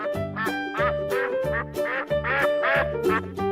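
A cartoon duck in a 3D animal video game quacks over and over in a quick, regular rhythm, close and clear, with bright music playing underneath.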